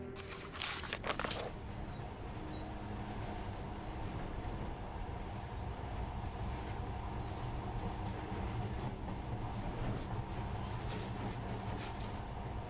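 A monorail train in the video game Metro Redux runs steadily with a continuous rumbling rail drone, preceded by a brief sharper burst at the start, with no talking.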